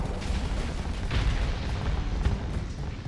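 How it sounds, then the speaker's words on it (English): Ship cannons fire in the Starsector space game, giving a rolling, rumbling barrage with a couple of heavier booming hits under constant low roar. No voices are heard. "Yeah, cannon works good."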